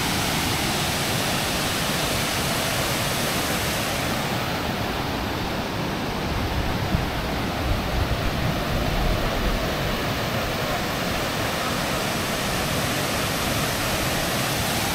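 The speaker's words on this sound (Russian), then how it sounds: "В общем, этот водопад стоит того, чтобы даже пройти к нему пешком" A waterfall in Karelia roars steadily and loudly, a dense unbroken rush of falling water that fills the whole stretch without pause.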